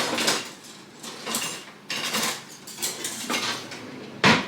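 Metal cutlery clatters and jingles in a kitchen as a spoon is picked out, several bursts of clinking over a few seconds, close and without talk.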